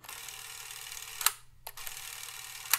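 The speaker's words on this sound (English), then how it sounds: "you can hear the camera running" A steady mechanical whir of a Super 8 film camera motor running, faint and even, with a couple of soft clicks; no voices.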